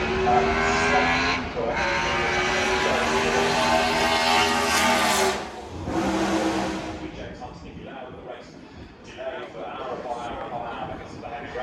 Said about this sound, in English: next on the hill, Andrew Beaumont in the ex-Mario Andretti Japanese Grand Prix winning Lotus 77